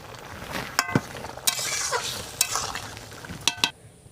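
Cumin seeds tempered in hot mustard oil give a steady close sizzle and crackle, broken by a few sharp metallic clinks of a utensil against the pan.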